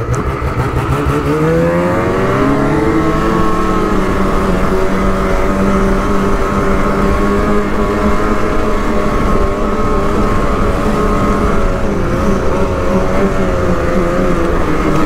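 A Lynx Rave RE 600R 2022 snowmobile's 600 engine roars steadily throughout, rising in pitch as it accelerates and then holding a sustained high drone while riding.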